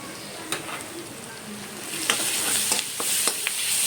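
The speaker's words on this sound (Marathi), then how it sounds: "ती पण थोडी तेलामध्ये परतून घ्यायची" Ginger-garlic paste fries in hot oil with browned onions for a chicken masala, giving a soft, steady sizzle broken by light clicks and scrapes from stirring, close but fairly quiet.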